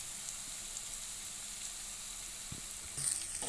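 Ginger garlic paste sizzles steadily in hot oil for a pesarattu masala curry, a continuous close hiss that swells a little louder near the end with a brief stir.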